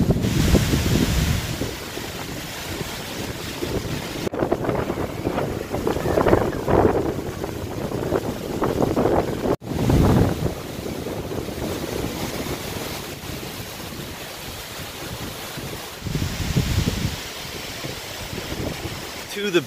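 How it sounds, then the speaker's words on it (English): Wind gusts from Hurricane Florence in 2018 near the Carolina coast roar and buffet the microphone, with loud rumbling surges and rushing noise that rise and fall across the whole stretch. "Things are picking up. A little gust coming through."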